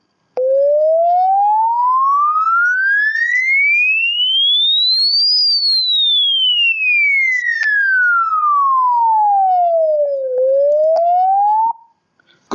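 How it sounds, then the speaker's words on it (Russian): A pure tone from LF Generator software sweeps smoothly upward in pitch, turns and glides back down, then begins rising again before cutting off, steady, loud and alone. "И зациклить этот самый sweep-сигнал на повтор."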